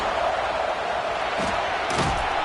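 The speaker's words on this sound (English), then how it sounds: "Here comes this home crowd as the defense tries to get off the field on 3rd down." A home football stadium crowd roars on third down as the defense tries to get off the field, a steady loud wash of cheering and noise with a couple of thuds near the end.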